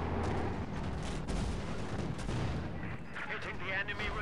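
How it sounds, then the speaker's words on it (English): A light artillery barrage in the Company of Heroes 2 strategy game, with dense, loud, rapid booms and cracks overlapping continuously, some blasts more distant and rumbling toward the end. "Hitting the enemy with light artillery"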